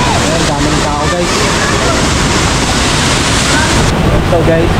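Taytay Falls in Laguna pours down with a steady, loud wash of rushing water, unbroken and close, with faint voices of people nearby buried beneath it.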